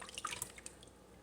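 In a kitchen while dishes are washed, water drips in scattered, quick droplets. The plinks are faint and irregular, each one short and bright, over a quiet background with no talking.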